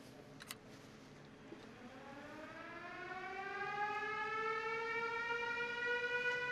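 An air raid warning siren in a tunnel winds up from a low pitch to a sustained high wail, growing steadily louder with a hollow, echoing quality.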